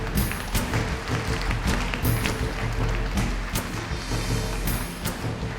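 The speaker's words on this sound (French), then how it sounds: "On les applaudit bien fort tous les 5." An audience at a property developers' awards ceremony in Bordeaux applauds five honourees, a steady, moderately distant wash of clapping with a few sharper individual claps standing out.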